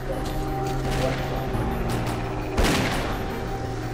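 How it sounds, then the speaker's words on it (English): Gunfire in S.T.A.L.K.E.R.: Clear Sky rattles through a fence, a steady stutter of shots under a background hum, capped by a louder heavy blast near the middle, close and prominent. "I think I'm shooting through the fence"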